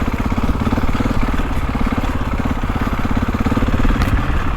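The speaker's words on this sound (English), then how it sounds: "just let the engine brake on these big bikes. Easy engine braking." A GasGas dirt bike engine runs steady and loud throughout, a rough mid-pitched drone with a pulsing clatter, coasting on engine braking.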